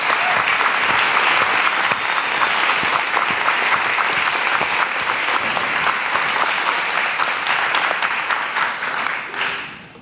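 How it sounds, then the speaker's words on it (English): A large crowd applauds steadily for several seconds, the clapping dense and continuous before tapering off at the end. "don't you give the school, yourself, Nandi, everybody that put this together a big round of applause"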